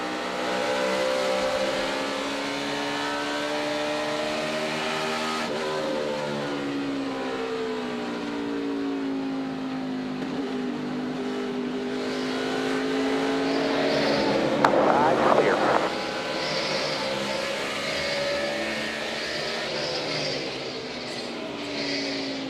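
A NASCAR Cup race car heard onboard at the 2012 Subway Fresh Fit 500, its engine droning loud and steady, rising and falling in pitch through shifts and corners, with a brief burst of noise midway.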